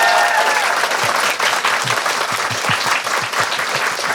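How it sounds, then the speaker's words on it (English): A live audience at a book club event bursts into loud, dense applause, many hands clapping steadily throughout, close and full. "Big round of applause to Waterstones"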